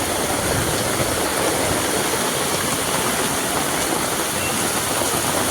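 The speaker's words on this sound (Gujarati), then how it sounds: "ઓ વરસાદ તો જો આવે" Heavy monsoon rain pours down outside a home in a dense, continuous hiss. The downpour is loud and even throughout, with no talk over it.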